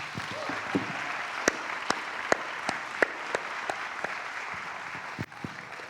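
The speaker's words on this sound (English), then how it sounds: "Can we give them another round of applause?" A graduation audience gives the graduates steady, even applause in a large hall, a soft wash of many hands with occasional sharper near claps popping out before it dips near the end.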